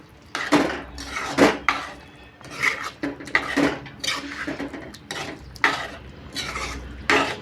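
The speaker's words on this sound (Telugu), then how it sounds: "ఇప్పుడైతే నేను మొత్తం కలుపుకుంటున్నానండి" A ladle stirs dal with bottle gourd and raw mango in a metal pot, making repeated scraping and clanking strokes in an irregular rhythm, close and fairly loud.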